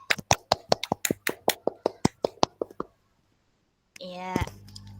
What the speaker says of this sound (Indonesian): Kita beri aplaus ya, teman-teman.